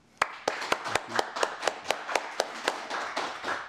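Thin, sparse applause closing a seminar on Ukraine, with a small group clapping in distinct individual claps at an uneven, steady rhythm, fairly close and without voices.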